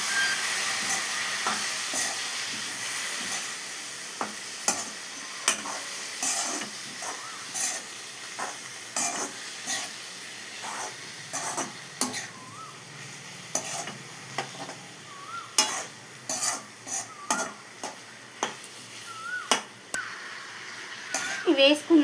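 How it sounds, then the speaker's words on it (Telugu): Chicken frying in a pan with salt while being mixed, a hissing sizzle under frequent sharp scraping and clattering stir strokes, with a voice talking at times. "ఈ చికెన్ అంతా కూడా ఇందులో వేసేసుకోవాలి. వేసుకొని మొత్తాన్ని మిక్స్ చేయాలి."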